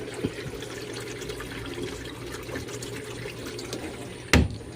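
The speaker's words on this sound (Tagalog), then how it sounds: "Nagkarga siya ng tubig." A Sharp automatic washing machine fills with water, a steady rushing and trickling flow heard up close and continuous, with a brief louder knock near the end and no speech.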